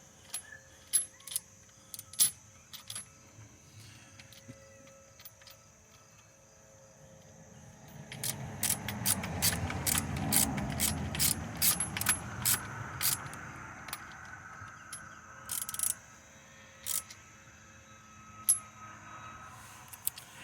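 Alpha Racing frame sliders being fitted to a motorcycle during a crash-protection build: scattered sharp metallic clicks and clinks of hardware being handled, with a denser stretch of rattling and rubbing in the middle, close and fairly quiet.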